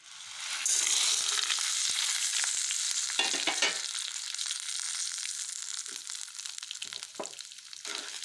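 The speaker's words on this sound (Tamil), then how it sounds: "போட்டு நல்லா ஃப்ரை பண்ணுங்கள்." Chana dal, urad dal and chillies fry in hot oil in a pan, giving a steady close sizzle with occasional scraping stirs and no talk.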